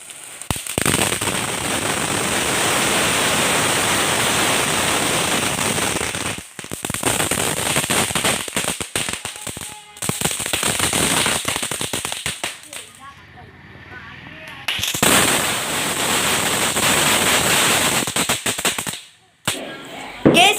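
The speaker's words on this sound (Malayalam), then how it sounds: "അങ്ങനെ അറുപത് ഷോട്ട് പൊട്ടി കഴിഞ്ഞിട്ടുണ്ട്" A sixty-shot firework battery fires rapid, loud cracking bursts in long rattling volleys, pausing briefly between runs, then a final few pops.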